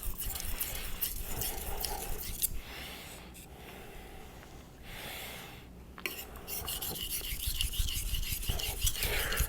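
A knife blade rasps back and forth across a Nano Hone ceramic whetstone in steady, repeated sharpening strokes, close and fairly loud, with brief pauses between passes.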